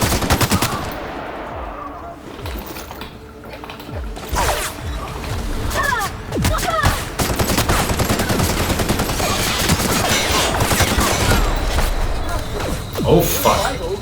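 Sustained gunfire in a battle in the video game The Outer Worlds, with repeated bursts of shots and machine-gun fire across the whole stretch, loud and dense, mixed with game voices and crashes.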